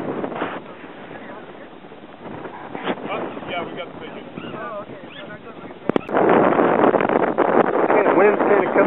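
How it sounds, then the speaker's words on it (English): Wind buffeting a microphone on a mountain at Camp Muir as weather closes in: steady rushing roar that swells louder near the end, with voices talking underneath. "we got the wind's kind of coming in here"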